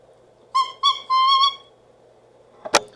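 A partly scraped oboe reed that vibrates only at its tip gives three short, thin, high crows, close and fairly loud, followed by a brief scraping noise.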